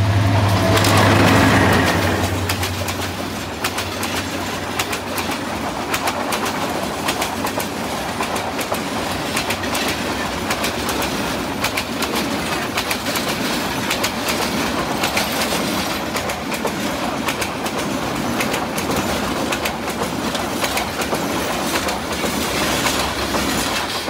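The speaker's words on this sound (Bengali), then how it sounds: "খুবই গতিতে কিন্তু ট্রেন যায়।" A fast passenger train rushes past on a village railway line in Bangladesh, loud and close for the whole stretch, with a steady roar, rattling wheels and clickety-clack over the rails and a brief surge at the start.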